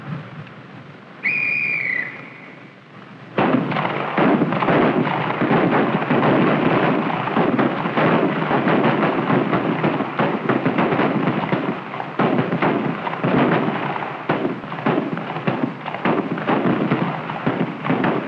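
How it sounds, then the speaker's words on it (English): A short whistle sounds, then a dense, continuous barrage of gunshots cracks and rolls across a firing range, echoing for many seconds with uneven bursts of rapid fire. "The sound of gunfire echoes across the range through the day and into the night."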